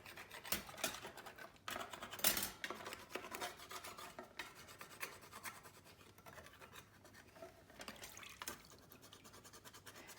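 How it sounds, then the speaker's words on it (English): A scraper rasps over caked-on burnt cheese on metal oven bars in a series of quiet, uneven scrubbing strokes, close and faint, with no talking. "So just give them a quick scrape, and that comes off really easy."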